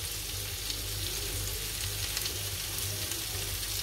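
Food sizzles steadily in a hot pan as ginger goes in, a dense, even frying hiss that holds at a constant level throughout with no voices.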